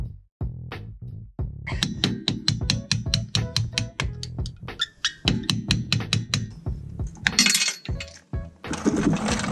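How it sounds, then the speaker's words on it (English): Sharp metallic hammer taps drive a screwdriver against a brake pad retaining rod on the rear brakes of a 2007-2015 Audi Q7, ringing out as a close, rapid string of bright clinks in short bursts. "you could put the screwdriver in and then tap it in until it starts pushing the little rod"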